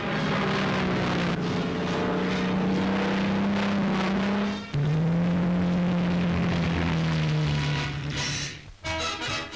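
A Supermarine Spitfire on a production test flight drones loudly overhead, its engine tone sliding in pitch as it passes, with a brief dip and a wind-buffeted tail at the end.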